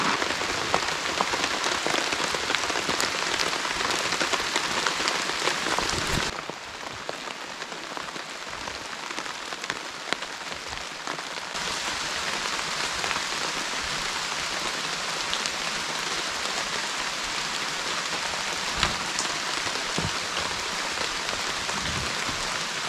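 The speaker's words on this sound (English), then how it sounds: "That's what we're after. Some real rain." Steady, dense rain pattering on a nearby bushcraft shelter, a constant hiss with occasional heavier drops, continuing without pause.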